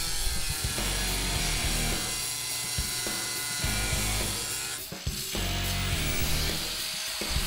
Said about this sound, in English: Next, I'll try the angle grinder.